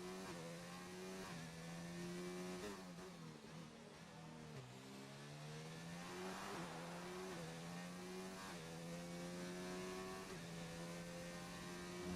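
Race car engines in the F1 2019 video game, a high-pitched whine rising and falling through gear shifts as cars charge down the straights, continuous and fairly faint.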